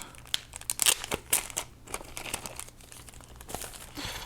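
Plastic packaging of a Mad Catz R.A.T. Pro S gaming mouse crinkles and crackles as it is handled and opened, in irregular close bursts with sharp snaps.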